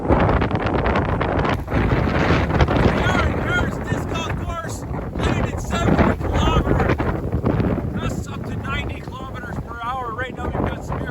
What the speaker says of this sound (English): of the really strong winds that are heading in. 70 to 90 kilometer winds, gusting possibly 110 kilometers an hour